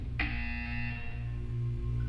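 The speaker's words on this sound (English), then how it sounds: "You will hear a buzzer." A buzzer in the Portal 2 video game sounds with a sharp onset and a harsh, tonal drone that slowly fades over about two seconds over a low background hum.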